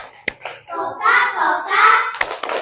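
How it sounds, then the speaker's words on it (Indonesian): Fifth-grade schoolchildren in a classroom do a rhythmic clapping chant for a group, with sharp, close hand claps framing bursts of chanted young voices. "Untuk kelompok 4, kita kasih tepuk Coca-Cola."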